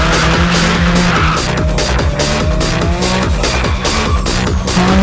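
A race car roars close by at high revs, its engine pitch rising and falling through gear changes, with tires squealing and skidding throughout, loud and continuous.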